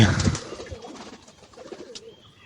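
Soft pigeon cooing nearby, a low throaty burble at the start that fades into quiet background rustle.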